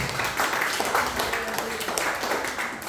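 A church congregation claps together after a sermon, a short burst of steady, fairly loud applause with a voice faintly mixed in.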